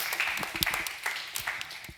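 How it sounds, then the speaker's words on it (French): Scattered applause from a modest audience at an evening meeting on energy transition in Normandy: faint, uneven clapping with distinct individual claps rising and falling over two seconds. "Bravo, Guillaume, on peut l'applaudir"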